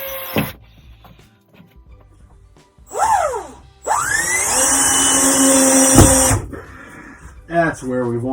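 A power tool drives screws into a wall inside a 1979 Chevy Cobra RV. Several loud whirring bursts rise and fall in pitch, close up, between stretches of someone talking.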